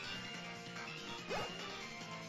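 Rockruff, the puppy Pokémon in Pokémon Moon, lets out a short, quiet, yelping cry partway through, over soft, steady game music.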